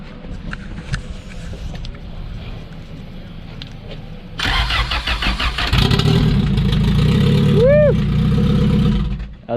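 A Honda CRX engine with a new starter cranks briefly and catches, firing up into a loud idle with a quick rising rev near the end, close by, with faint voices beforehand.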